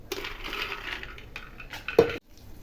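Mustard seeds, cumin and peanuts tumble into hot oil in a kadai for temple-style tamarind pulihora, giving quick scattered rattles and a brief sizzle, with one sharp clatter near the end before a short quiet.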